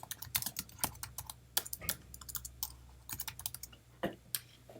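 Rapid, uneven keystrokes clatter on a computer keyboard, close and fairly quiet, with brief pauses between bursts of typing.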